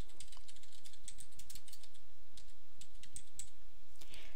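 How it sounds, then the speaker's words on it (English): A company name is typed on a computer keyboard during QuickBooks setup: a quick, uneven run of close keystroke clicks with brief pauses and no talking. "First, you want to type in your company name."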